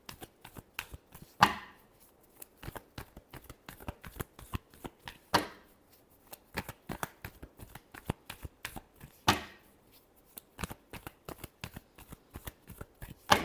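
Tarot cards riffled and shuffled by hand in repeated bursts of crisp flicking, each run ending in a sharp louder riffle, close and alone with no voices.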